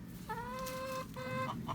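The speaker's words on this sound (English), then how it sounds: "I've got 13 chickens." Backyard coop chickens, a flock of thirteen including a rooster, clucking up close: two long drawn-out calls followed by a few short clucks, with no talking.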